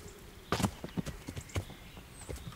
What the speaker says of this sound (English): There we go, stampede horse.